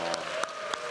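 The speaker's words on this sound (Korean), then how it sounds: "박수는 민주당이나 다른 당에서 나오는 것 같고요" Lawmakers applaud in the National Assembly during a presidential budget address, a steady bed of clapping with a few sharper bursts standing out, heard alone without talk.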